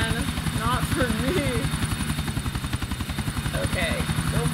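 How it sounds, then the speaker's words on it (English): Helicopter rotor thudding steadily and close in Grand Theft Auto IV, a fast rhythmic chop with engine drone running throughout while a player talks over it. "driving a helicopter in this game is hard"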